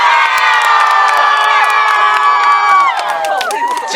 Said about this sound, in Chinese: 再大声一点，尖叫声！